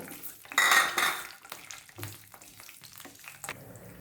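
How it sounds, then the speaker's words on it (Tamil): Cashew nuts fry in a pan with a short burst of sizzling followed by close clinks and scrapes of a spoon stirring against the metal, quieter sizzle continuing between strokes. "இதில் முந்திரி பருப்பை ஃப்ரை பண்ணிக்கோங்க."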